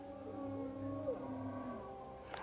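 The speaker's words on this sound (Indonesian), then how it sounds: "Kalian nggak dengar tadi suara, ada suara ikan paus." A whale calls in the mobile video game Revelation Mobile, making low, drawn-out moaning tones that slowly rise and fall. The call is faint and heard alone.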